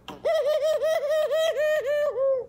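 A pigeon cooing close by, a run of about six throaty, rhythmic coos in quick succession, clear and alone.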